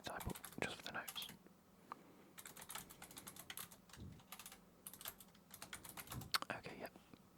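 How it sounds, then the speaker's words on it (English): Soft, steady typing of notes on a computer keyboard in a quiet room, continuous clusters of close key clicks with brief pauses, with quiet speech around it. "I'm just going to type up just for the notes"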